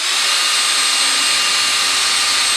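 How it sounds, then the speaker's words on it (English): A power drill whines loudly and steadily as it bores a hole through a wooden workpiece into the workbench below, a continuous high-pitched grind with no voices. "If I drill a hole all the way through there into my workbench below"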